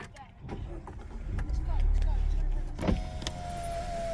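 A power window on a Mazda2 1.5 SKYACTIV-G hatchback motors closed with a steady electric whine inside the parked car, heard under a man's speech.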